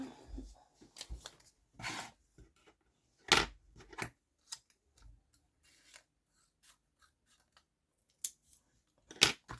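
Scissors snip through paper for an art collage, several short crisp cuts close by in a quiet room, separated by pauses with faint rustling of paper.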